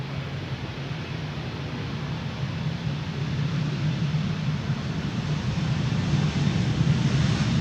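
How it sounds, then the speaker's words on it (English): KLM jet at Amsterdam Schiphol on the Polderbaan runway, engines spooling up for takeoff to Gothenburg: a steady broadband roar with a low rumble that builds gradually in loudness across the stretch, no voices. "KLM flight 1231 to Gothenburg is spooling up"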